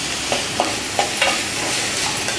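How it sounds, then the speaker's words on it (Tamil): Onions fry with curry leaves for an idli kuruma, a dense, close sizzle with several quick scrapes of a spoon stirring the pan and no talking. "நல்லா வெங்காயம் வதங்கட்டும்"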